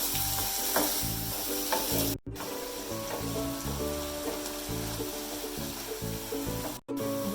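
Continuous loud sizzling of chopped banana flower stir-frying in a pan, with rhythmic scraping and clicking of a spatula stirring, interrupted by two brief silences.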